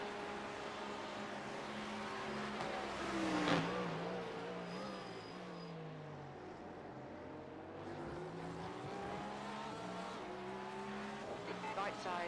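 Race cars in the iRacing simulator at Le Mans, engines droning steadily with a rising and falling pitch as a faster car closes in, faint overall, with occasional tire noise.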